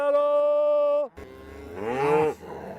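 Cattle moo outdoors at close range, one long steady low call followed by a second rising, wavering moo, with no talk over them.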